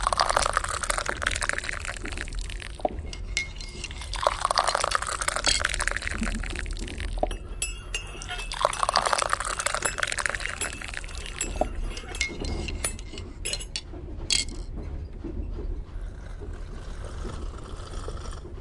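Tea is poured and served, a steady trickle of liquid into cups with light clinks of china, quiet and close, with no voices.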